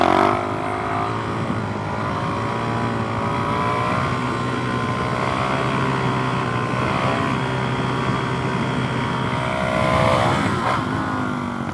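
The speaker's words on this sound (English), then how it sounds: "Well, we ought to do another wheelie." A Suzuki DRZ 400SM single-cylinder motorcycle roars close by during a wheelie, with a steady, loud engine drone, wind buffeting and a surge of revs near the end.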